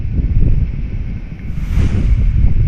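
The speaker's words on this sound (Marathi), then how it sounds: "वारा बागी सुटलाय" Strong monsoon storm wind buffeting the microphone with a heavy low rumble, gusting up and down, and mango tree leaves rustling in a swell midway.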